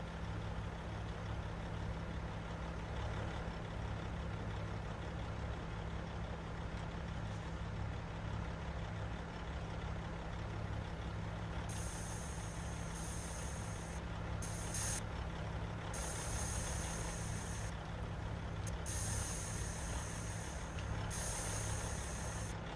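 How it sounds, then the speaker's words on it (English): Truck trailer being raised and lowered in Farming Simulator 25, a steady engine rumble with hissing and higher whirring bursts in the later part, continuous and without talk. "Okay, that's raising and lowering from the truck."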